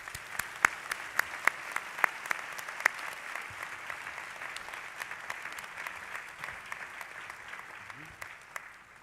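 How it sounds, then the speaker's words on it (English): Audience applause for award recipients at a church ministers' and laity forum, a steady patter of many hands with a few sharp, closer claps standing out early before the clapping gradually thins. "let us give these recipients an applause."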